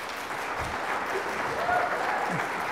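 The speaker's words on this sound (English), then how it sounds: "I'm going to ask the audience to hold their applause until the end of the debate" A debate audience at a Washington Secretary of State forum applauds in a steady, moderately loud wash of clapping that runs for a few seconds.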